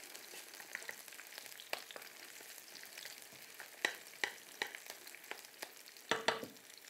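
Meatballs and garlic fry in a pan, a steady broadband sizzle broken by sharp scraping clicks as they are stirred, the spoon strokes coming in a loose rhythm and bunching near the end; no voices.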